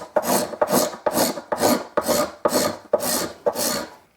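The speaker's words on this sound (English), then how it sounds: "after a ridiculous amount of time cleaning up these bindings, carefully scraping so as not to damage the finish" Guitar bindings are scraped and abraded to clean them up, making eight evenly spaced rasping strokes in a steady rhythm, close and alone.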